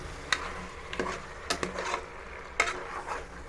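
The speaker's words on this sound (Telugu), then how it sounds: "ఇలాగ మొత్తం కారం అంతా కలిపిలాగా తిప్పాలండి" A spoon stirs chili powder through country chicken curry in a pan, giving quiet scraping strokes and a few sharper clinks against the metal over a low background sizzle.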